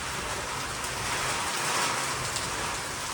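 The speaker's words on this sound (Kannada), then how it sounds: "ಫುಲ್ ಐತೆ ಮಳಿ." Heavy monsoon rain pours down steadily and loud, a dense continuous wash of drops on surfaces with no break and no voices.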